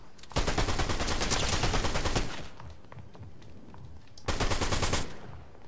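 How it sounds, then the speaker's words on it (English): Submachine gun fire in a video game rattles out in two long, rapid bursts, the first sustained for nearly two seconds and the second shorter, loud and close with a quieter gap between. "SMG, let's go."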